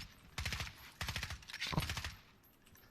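Bursts of rapid automatic gunfire from a multiplayer shooter video game, two or three quick volleys at moderate loudness with short gaps, no talk over them.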